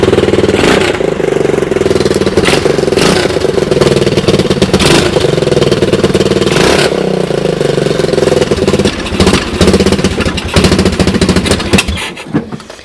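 A Honda UTV engine runs after a cold start following six months of sitting idle, giving off a loud, steady, rough putter with a fast mechanical rhythm that lasts throughout and eases slightly near the end.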